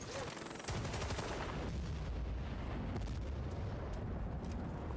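Sustained machine gun fire in a military video game, a dense loud rapid burst starting after a brief pause and continuing steadily to the end, mixed with rumbling explosions.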